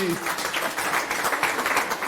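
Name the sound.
congregation applauding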